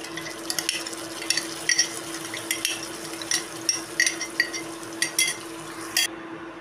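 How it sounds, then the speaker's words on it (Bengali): Ingredients frying over low heat for shahi paneer, with a soft steady sizzle under repeated close clinks and scrapes of a spoon stirring the pan. "সব কিছু বেশ খানিকক্ষণ ধরে ধিমি আঁচে ভেজে নিচ্ছি।"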